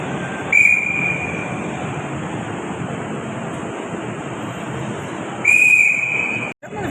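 Orange Line metro train in Lahore running at steady speed, a continuous broad rumble and rush with a shrill whistle-like tone rising twice, near and loud, no voices.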